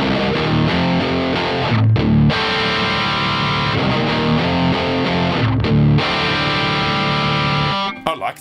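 Electric guitar played through the Two Notes Genome 1.5 amp plugin with a boost engaged, loud distorted sustained chords with a brief break partway, ending abruptly as the playing stops.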